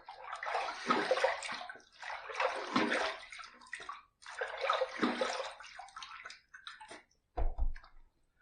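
Running water rinsing a Gem Micromatic safety razor during a shave comes in several splashing, sloshing bursts of a few seconds each, close and fairly quiet, ending in a couple of short taps.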